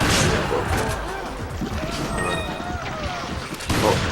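Rapid gunfire crackles through a firefight in Resident Evil 5 Mercenaries, with repeated shots and impacts layered over game noise while a player talks throughout.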